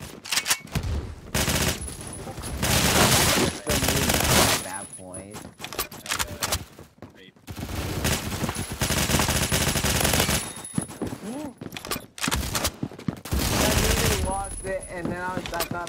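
Rapid automatic gunfire from the Phantom Forces video game, loud bursts of shots recurring across the clip with short pauses between them, mixed with other game sounds.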